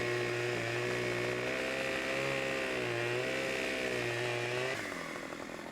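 A chainsaw in Farming Simulator 17 felling a tree runs loud and steady with a droning motor tone that dips and rises as it cuts, then drops off near the end.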